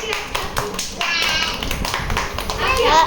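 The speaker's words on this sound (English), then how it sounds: "అందరూ క్లాప్స్ కొట్టారు." Young children clapping together during nursery-rhyme time in an early-childhood class: a dense run of quick, uneven claps, with children's voices and talk mixed in throughout.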